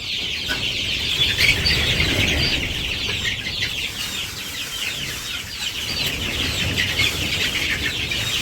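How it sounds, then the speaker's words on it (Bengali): Chickens and a rooster cluck and chirp busily around feeding time in a village yard, a steady close-up flock chatter with a bright clucking layer throughout and no talk. "তো এই যে মুরগিরে খাবার দিতে গেল তুমি খাবার দিতেছ"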